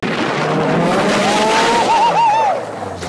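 A Honda S2000 engine with a baffled oil sump screams near its rev ceiling around 9000 rpm, a loud sustained high-pitched wail with rising and falling pitch sweeps and a hint of tire squeal, fading off at the end.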